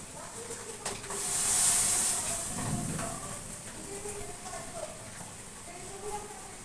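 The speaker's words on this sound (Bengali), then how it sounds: "আমার চায়ের জল একদম টকবক করে ফুটে গেছে" Tea water boiling hard in a pot on a gas stove at home, a close, steady hiss and bubbling roar that swells early, then settles into a softer seething.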